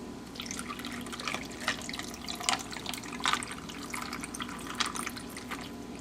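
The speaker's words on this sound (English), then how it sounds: "you can go ahead and pour yourself your glass" Iced tea poured into a glass over ice, a light liquid trickle with scattered drips and small clinks, close and fairly quiet.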